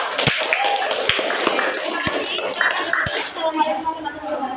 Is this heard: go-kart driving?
no